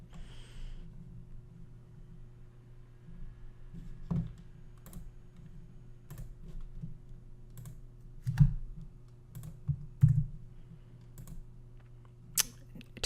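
Sparse, irregular keystrokes tap on a computer keyboard, close and fairly quiet, with a steady low electrical hum underneath.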